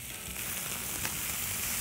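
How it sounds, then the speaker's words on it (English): Beef tacos sizzle steadily on a hot grill over a boma braai fire, a continuous close frying hiss that stays even throughout with no talking. "nice little sizzle"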